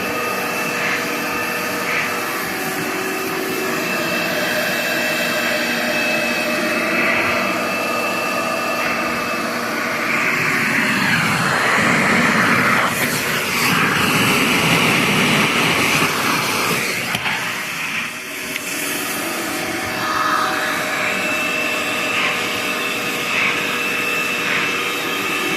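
A Shop-Vac central vacuum system runs continuously with a loud, steady roaring drone that holds for the whole stretch, shifting slightly in tone midway.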